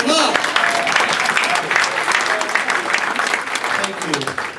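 Audience applause for a guest speaker, loud and dense clapping filling the room throughout, with voices talking underneath.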